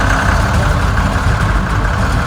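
Tractor engine pulling a trailer of freshly harvested wheat, a loud, steady low diesel rumble close by, continuous with no pauses.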